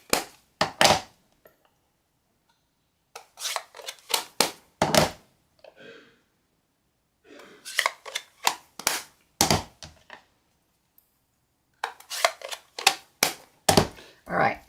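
Scissors cut out a stamped paper image in quick clusters of sharp, close snips separated by brief pauses.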